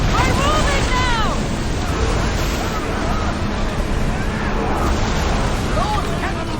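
Ships' cannons boom in a naval battle in Assassin's Creed Odyssey, blasts and crashing surf overlapping with shouting voices in a loud, continuous din.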